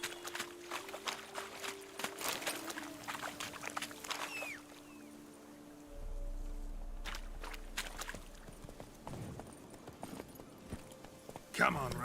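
Roach the horse gallops in The Witcher 3, hooves clip-clopping beneath game ambience and background music, with a voice speaking over the movement.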